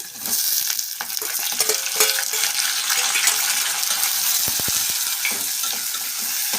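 Onions and cut tomatoes fry in a pan with a steady, close sizzle and occasional stirring clatter that runs through the whole stretch, with no talking.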